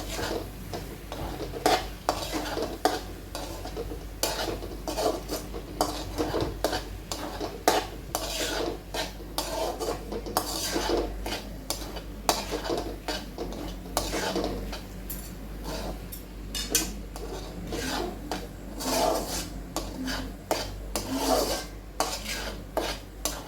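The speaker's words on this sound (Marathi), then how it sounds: "मसाले घालून आपण चांगलं परतून घेऊया." Prawn masala spices, including mutton masala, being stirred and sautéed in a pan with a spatula, giving steady scraping and clinking against the metal under a faint sizzle, close and continuous throughout.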